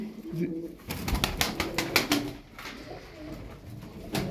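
Pigeons in a loft coo softly while someone talks nearby, with a brief flurry of bird movement in the middle.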